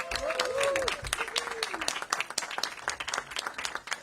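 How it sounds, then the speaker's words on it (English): Audience applause at a DC government event opening a commercial corridor hub in Chinatown, Washington, with steady clapping that fades slightly while a voice talks over it. "Give them a big round of applause"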